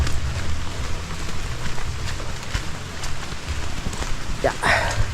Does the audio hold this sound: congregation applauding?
no